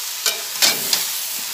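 Vegetables fry in a pan, with a low steady sizzle broken by three short scraping stirs, close and without talk.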